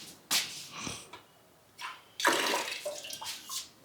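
Water from a household tap gushes in short, uneven bursts, fairly quiet and close, with pauses between splashes and no voices.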